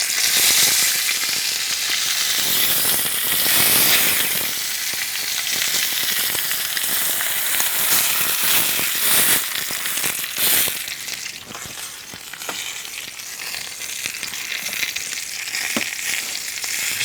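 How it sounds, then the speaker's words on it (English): Smoked pork chops searing in a hot pan give a loud, steady, crackling sizzle that runs unbroken throughout, with the fat spitting and popping close up. "And then carefully, very carefully, lay them down. We're gonna give them a sear for about"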